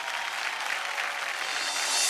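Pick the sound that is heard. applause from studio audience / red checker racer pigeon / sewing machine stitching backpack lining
applause from studio audience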